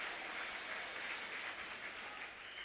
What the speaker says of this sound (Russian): И аплодируют трибуны